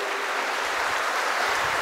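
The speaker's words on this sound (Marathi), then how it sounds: "असा हा लोकांची काळजी घेणाऱ्या माणसासाठी आपण परत एकदा जोरदार टाळ्या वाजवूयात" Applause from an audience at a chancellor's birthday celebration: a dense, steady clapping that fills the full two seconds with no voices over it.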